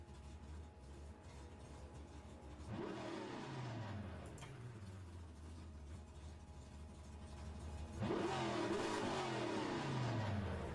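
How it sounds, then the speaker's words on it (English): A Cuda race car in a Trans Am racing video game revs hard through repeated upshifts, its engine pitch climbing and dropping in steady sweeps, loud and continuous with no talking. "So if you can hear the engine, then it's good."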